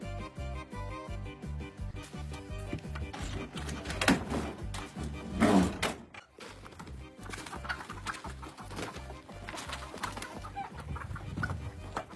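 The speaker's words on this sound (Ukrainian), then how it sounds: "що так кури кричать" Chickens cluck and squawk in an agitated jumble, with rhythmic background music and a loud flurry near the middle before the noise briefly cuts out.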